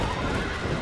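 A horse in the Red Dead Redemption video game makes a brief, close, noisy burst of sound that may be a whinny or hooves.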